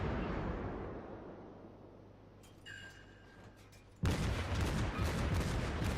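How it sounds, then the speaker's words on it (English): High explosive shells strike an enemy cruiser in World of Warships, heard as a rumbling roll of distant blasts that fades, a few thin metallic pings, then a sudden loud burst of gunfire and explosions that carries on to the end. "any moment now, another Citadel hit with high explosive"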